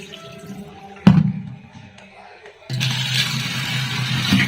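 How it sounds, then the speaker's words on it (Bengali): Soaked urad (biuli) dal is being rinsed and squeezed in cold water, with a sharp splash near the start and then a steady, close running-water wash that fills the rest of the clip. "আমি এবারে এটাকে ভালো করে চটকে চটকে এটাকে ধুয়ে নেব ঠান্ডা জল দিয়ে"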